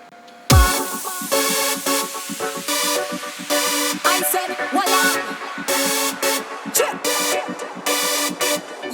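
A remix breakdown where the full drum kit comes in abruptly, with no snare lead-in, under layered synths and chords. The loud, dense music keeps a driving beat with crashing accents throughout.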